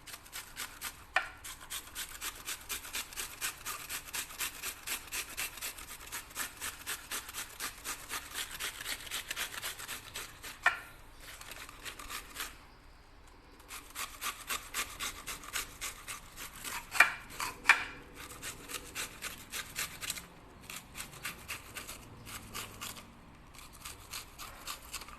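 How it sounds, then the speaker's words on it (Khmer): A red onion is scraped on a grater in fast, rhythmic rasping strokes, close and dry, with brief pauses between runs. "គឺយើងកោសបាទខ្ទឹមក្រហមមក"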